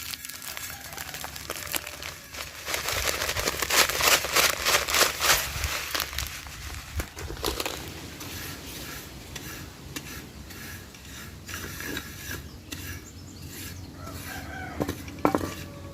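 Dry vermicelli is roasted and tossed in a pan in an African village kitchen, giving busy rattling and scraping stirs loudest early on, then softer shuffling with faint sizzle and occasional clinks.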